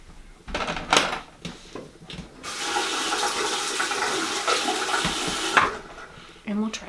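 Water runs from a bathroom tap for a few seconds to wet a makeup brush, a steady hiss between clatters and handling sounds, with a voice speaking briefly around it.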